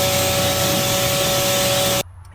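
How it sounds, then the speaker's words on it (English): Acid wheel cleaner hisses from a spray bottle onto the wheels of a 1994 Fox Body with a 351W, one loud, close, continuous burst lasting about two seconds before cutting off abruptly. "You can spray acid on your wheels."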